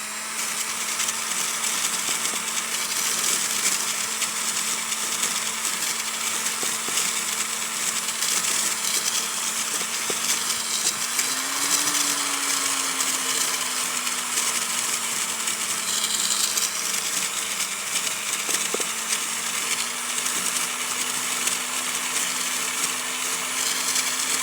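A power tool runs steadily for the whole stretch, smoothing the outer surface and sides of a worn ring with deep gashes, its motor whine holding a constant pitch that dips and rises briefly midway, close and continuous with no talk.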